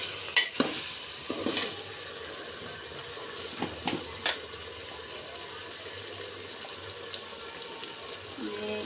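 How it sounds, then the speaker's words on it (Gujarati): Chutney tempering being stirred in a pan after water is added, with faint scraping strokes and a soft, steady sizzle and bubbling at close range. "થોડુંક પાણી નાખીએ આપણે હલાવતું રહીશું થોડી વાર આપણે હલાવવાનું છે"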